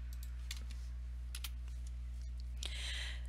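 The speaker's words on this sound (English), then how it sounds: "you can press F3 on your keyboard," Faint clicks of a computer keyboard key being pressed, a few light taps over a steady electrical hum.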